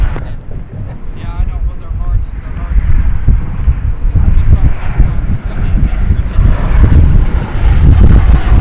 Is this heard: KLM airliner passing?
yes